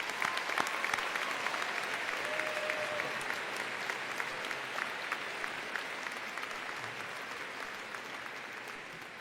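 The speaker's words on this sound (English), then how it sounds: "Students, at this time, it would be appropriate to give her a round of applause." Graduation audience applauding a retiring staff member, a dense sustained round of clapping from a large crowd that holds steady for the whole stretch and eases slightly toward the end.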